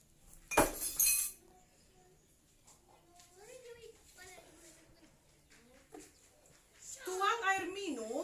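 A clear drinking glass is handled for a primary school science lesson, giving one short, bright, sharp clink near the start, followed by a voice speaking.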